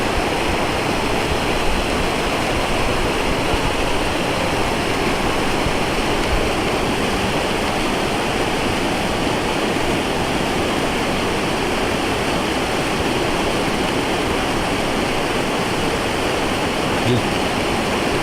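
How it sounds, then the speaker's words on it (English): Morgan Falls waterfall pours in a steady, close, full-band roar of rushing water that holds unbroken and loud throughout, with no voices over it. "What kind of waterfall could be coming off of that?"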